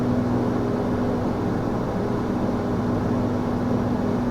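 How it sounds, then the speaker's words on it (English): Steady, loud drone of ATR 72-600 turboprop engines at max continuous thrust in Microsoft Flight Simulator 2024, a constant even hum with a tonal whine that holds unchanged throughout without talk. "You can actually go MCT if you want. It should go even faster. Yeah, you can hear it going a little harder there."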